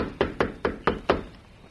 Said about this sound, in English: He stepped aboard the small car and tapped on the door.